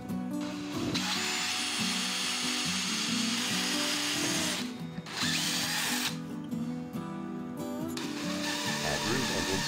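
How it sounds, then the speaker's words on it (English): A power drill bores into plywood and a mini T-track, its whining motor running in loud sustained bursts with brief pauses between passes, close to the microphone. "Drill plywood and mini T-track."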